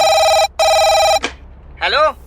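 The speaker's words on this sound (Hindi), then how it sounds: "उस कॉन्ट्रैक्टर का मुझे फोन आया।" A telephone rings with two loud electronic trilling bursts separated by a brief pause, then a voice begins speaking right after.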